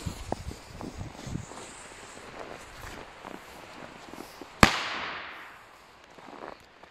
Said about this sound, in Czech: Takže megatřesk s knotem v této hroudě.